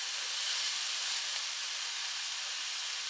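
Flank steak sears in a hot pan, giving a steady, loud broadband sizzle with no pauses and no voices.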